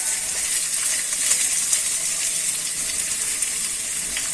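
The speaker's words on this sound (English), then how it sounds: "Now I'm going to add some onions. We'll saute the onion little bit." Onions sizzle steadily in a hot pan while cooking for a potato and flat green bean sabzi, with a constant bright hiss close by and no voices.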